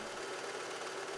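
A sewing machine hums steadily and close up while stitching a child's dress, a continuous mechanical whir with no pauses or voices.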